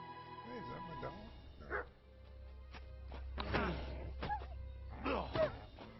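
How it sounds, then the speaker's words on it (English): A dog in the video game Kingdom Come: Deliverance II gives a few short barks and yips among game sounds, with someone talking over them. "Hey, is that my dog?"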